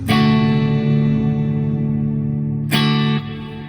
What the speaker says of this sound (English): I use my tremolo on the Oceans 12, which is a reverb pedal but has great modulations in it